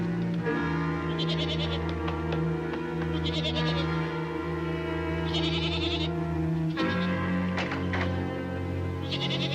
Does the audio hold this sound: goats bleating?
yes